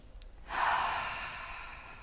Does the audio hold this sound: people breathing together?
yes